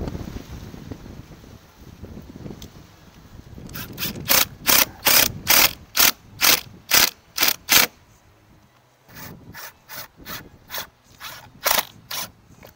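Rapid bursts of a power driver whirring as screws are driven through trim into aluminum siding on a travel trailer outdoors, two runs of sharp repeated pulses separated by a short pause, close and loud over light wind.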